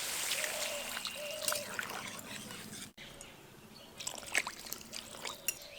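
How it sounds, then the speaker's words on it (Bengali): Water poured from a vessel onto potatoes sautéed with spices in a cooking pan, a steady close trickle and splash that runs a few seconds, breaks briefly, then resumes more unevenly. "এবার আলুগুলো সেদ্ধ হওয়ার জন্য জল দিয়ে দেব।"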